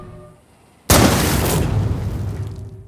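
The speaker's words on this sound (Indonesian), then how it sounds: "peluru yang sudah dimodif sebelumnya oleh Bob Lee agar meledak di tempat" A modified sniper rifle bullet explodes in a film action scene: one sudden loud boom that erupts from quiet and then rumbles and decays slowly, filling the space around it.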